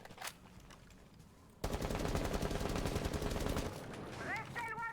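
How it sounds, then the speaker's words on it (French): Rapid gunfire aimed at the player in a video game: after a quiet start, a sudden loud burst of fast machine-gun shots rattles for about two seconds, then fades into electronic game tones. "lui il arrive à me tirer dessus"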